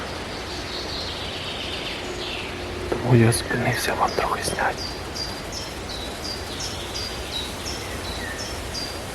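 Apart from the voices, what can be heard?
birdsong in a forest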